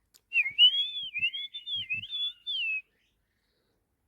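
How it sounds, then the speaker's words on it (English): A blackbird sings a string of clear, fluting whistles in quick, wavering phrases, close and distinct against a quiet background before falling silent. "That's a blackbird making the most whistling noises."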